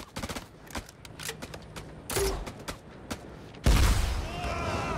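Sporadic gunfire from a horror video game, scattered sharp shots and a heavier burst near the end, mixed with game noise and a few voices.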